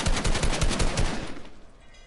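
Automatic gunfire in the video game Fortnite, a fast rattling burst of roughly a dozen shots over about a second and a half that then fades out, loud and sharp with no talk over it.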